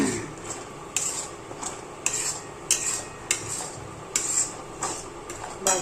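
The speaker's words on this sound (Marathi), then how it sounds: "हा मसाला चांगला भाजून घ्यायचा तेलामध्ये" Masala roasting in oil for peanut amti, with a soft sizzle under a steady series of light clinks and scrapes as a spoon stirs against the pan.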